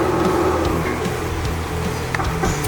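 The simulated engine sound of a 1/13-scale RC XD580 model loader plays as a steady, close electronic motor drone with shifting throttle tones over a few seconds.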